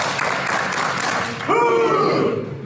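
A group at a door-to-door sales training session claps together on cue in a dense burst of applause, which swells louder partway through as voices rise over it.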